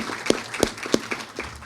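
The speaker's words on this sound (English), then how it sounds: "I'd like to give them another round of applause for what they're doing for this state" Scattered audience applause at a press event, a few sharp, evenly spaced claps standing out over a soft, thin patter of hands, heard without any voices.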